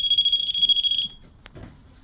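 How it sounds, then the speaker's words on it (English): A REM pod paranormal detector at an abandoned dairy farm gives a steady, shrill electronic tone for about a second, then goes quiet, leaving only faint background rumble and a brief click. "Sorry about all the beeping, guys."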